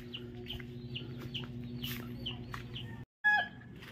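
Chickens at feeding time on a rainy day, a flock clucking and chattering in short repeated calls close by over a steady low hum, with a brief silence near the end before louder clucks resume.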